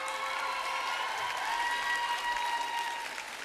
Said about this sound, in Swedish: Stor applåd för Anders.